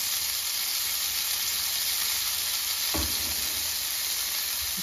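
Black chickpea kababs lightly coated in oil fry in a pan with a steady, close sizzle and hiss throughout, plus one brief louder crackle partway through, with no voices.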